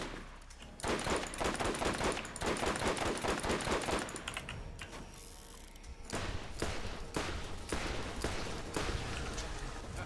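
A proton rifle fires in Borderlands, a dense run of rapid, crackling shots sounding close and loud, then a short lull before another volley of quick bursts.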